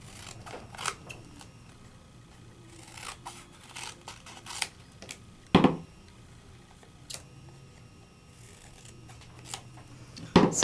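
Foiled paper card is trimmed with scissors: a few distinct, close snips and crisp paper rustles stand out against a quiet background, with the sharpest cuts coming in short bursts near the middle and the end.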